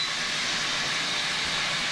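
Boiling water poured over freshly caught sea snails (conch) soaking in salted water, a steady loud hissing rush with no breaks, close up and alone.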